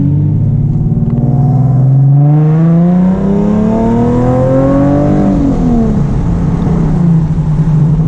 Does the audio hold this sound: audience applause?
no